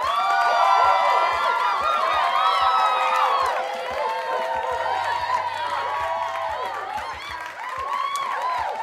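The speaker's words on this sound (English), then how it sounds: "Round of applause." Crowd cheering and applause as a sound effect, dense clapping with whoops and shrill whistles sustained throughout, loud and lively with a low voice briefly underneath.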